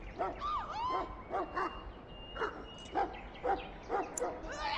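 Mabari hound from the Dragon Age: Origins video game barking and yipping in a rapid series of sharp, mid-close barks with a brief whine early on, over a faint background hum.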